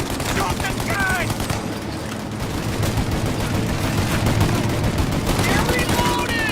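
Loud, sustained gunfire in the 1930s gangster game Mafia, with rapid overlapping bursts of shots filling a chaotic shootout, punctuated by shouting voices in the background.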